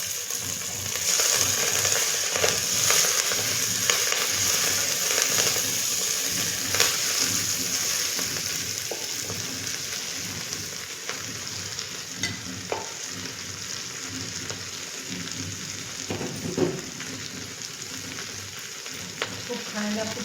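Chopped gavran bhaji greens frying in a pan give a close, continuous sizzle with scattered stirring scrapes and clinks, settling slightly quieter toward the end.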